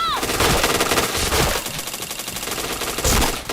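Rapid bursts of automatic gunfire in a shooting video game, loud and continuous with dense overlapping shots and brief swells, with no talk over it.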